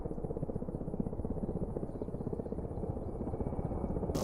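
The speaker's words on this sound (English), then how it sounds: "drift my helicopter with my thumbstick" Helicopter in the flight-simulation game DCS, a steady rotor drone with rhythmic blade chop, continuous and moderately quiet with no speech.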